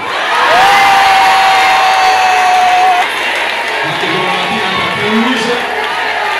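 A loud crowd cheers and shouts at a church gathering in Brazzaville, with a long whistle-like tone in the first half. The noise carries on at a slightly lower level after three seconds.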